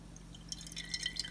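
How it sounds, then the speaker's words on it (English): Liquid from a kombucha SCOBY drips back into the jar, a few quick, light, close plinks over a low steady background hum. "Gotta let all the stuff drip out of it"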